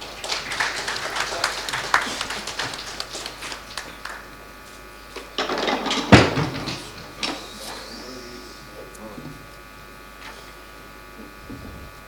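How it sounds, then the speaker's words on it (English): Audience at a seafarers' panel discussion gives a round of applause for the panelists, a burst of clapping that swells near the middle and fades away, heard against a room hum. "May we have a round of applause for them?"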